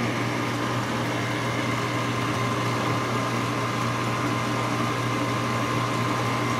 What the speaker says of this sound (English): Sounds like a GE dishwasher to me.